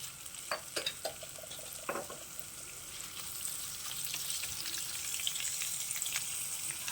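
Whole cumin, mustard, fennel and coriander seeds crackle and sizzle in hot oil for a Kashmiri red chilli pickle, with a few stirring clicks early on and then a steady, close frying hiss.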